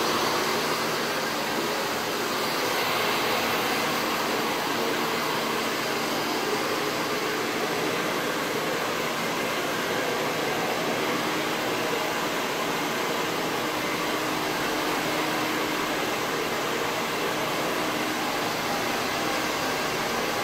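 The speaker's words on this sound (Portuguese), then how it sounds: "Agora eu vou secar o cabelo dele." A steady, loud blowing roar runs unbroken for the whole stretch, a hair dryer on full power held close by, drying hair after a mohawk haircut.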